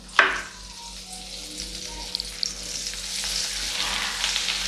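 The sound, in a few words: butter sizzling in a hot frying pan with sunflower oil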